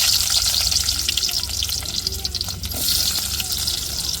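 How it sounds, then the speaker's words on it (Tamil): Chopped onions hit hot oil with fenugreek in a pan while tempering spices for a fish curry, giving a steady, close, loud sizzle with faint stirring scrapes. "இப்போ நறுக்குன வெங்காயத்தை சேர்த்துக்கிடுவோம்."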